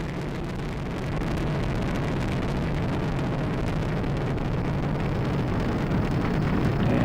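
An Atlas V rocket engine roars during launch ascent at full thrust as a broad, steady rumbling roar that swells slightly after the first second and holds, distant and unbroken.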